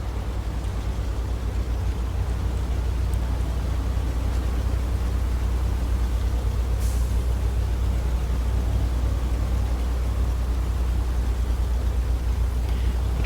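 A truck driving in the video game SnowRunner gives a steady, continuous low engine drone with a broadband road and terrain hiss that holds unchanged from start to finish, with no voices over it.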